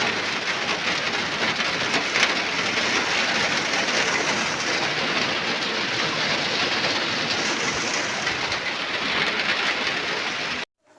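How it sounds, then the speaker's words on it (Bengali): Heavy, steady rain pours down without a break, a dense continuous hiss of drops on surfaces that cuts off abruptly at the very end. "বিশাল জোরে বৃষ্টি হচ্ছে"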